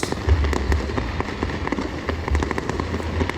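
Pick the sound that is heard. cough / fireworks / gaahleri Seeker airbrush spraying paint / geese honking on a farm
fireworks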